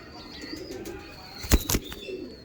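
Paired pigeons of a rare Teddy breed coo nearby in soft, low murmurs, with a brief pair of sharp flutters or knocks midway; no voices.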